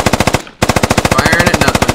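Sustained rapid automatic gunfire in the military shooter game Squad, loud and close with a brief pause before the rhythmic bursts resume, no speech.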